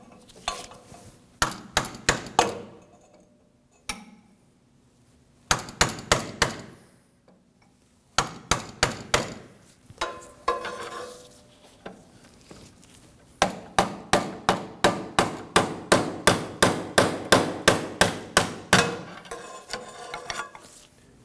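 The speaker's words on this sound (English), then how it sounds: "We're just going to fold those tabs down using a hammer and a punch." Metal-on-metal hammer and punch taps folding washer tabs on Subaru Impreza inner tie rods come in quick bursts of several strikes, pausing between groups, then a long steady run of ringing blows near the end.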